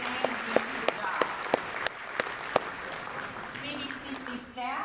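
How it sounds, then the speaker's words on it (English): An audience at a community college Hall of Fame event applauds, a steady round of clapping with a few loud, sharp claps close by, while a voice speaks over it. "a big round of applause for Beam."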